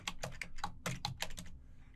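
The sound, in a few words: typing a command on a computer keyboard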